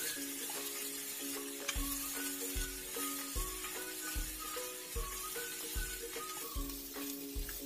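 Small onions frying in a pan for jackfruit poonju thoran hiss faintly and steadily, while regular stirring strokes scrape through the sizzle at a slow, even rhythm.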